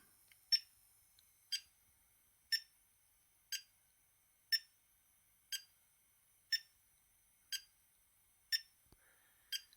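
A sharp electronic beep from a digital clock repeats at a steady one-second interval, about ten times, clean and isolated against near silence.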